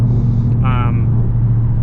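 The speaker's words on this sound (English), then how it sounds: "I love the sound of big cam V8s" A 2017 Dodge Challenger T/A with a 5.7L Hemi V8 and a Comp 274 cam idles close by with a loud, steady, deep rumble. A brief higher sound cuts in near the start.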